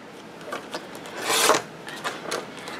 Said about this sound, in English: I'm just trimming off the flaps of this piece of cardboard